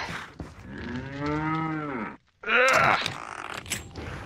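A cow in the Resident Evil 4 VR video game gives two loud, close, drawn-out moos. The first is long and groaning, then a brief silence, then a shorter, rougher moo over faint background noise.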